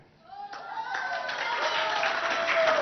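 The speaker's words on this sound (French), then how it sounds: "On applaudit toujours, hein?" Audience applause at a school games competition rises from a quiet start into steady clapping, with voices talking and calling out over it.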